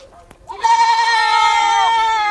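A goat on a farm gives one loud, close, drawn-out bleat lasting about two seconds, after a brief quiet moment.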